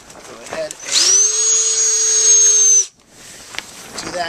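A power drill drives screws into a hoop house screen wall, one whining burst of nearly two seconds that starts, holds a steady pitch and cuts off, with quieter clicks and rustling before and after.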